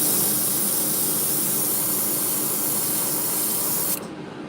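Steady, loud spray-gun hiss laying a green coat of paint on a Chernobyl 2.5 crankbait fishing lure, continuous for about four seconds before dropping off abruptly near the end.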